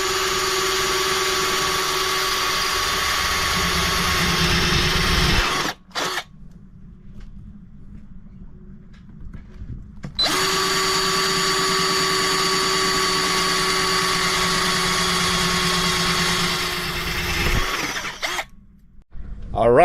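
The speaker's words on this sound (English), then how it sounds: "I'm gonna drill around the edge like this" A power drill cuts around the edge of a hole in a sailboat hull, whining loudly and steadily, stopping briefly near the middle before running again and cutting out near the end.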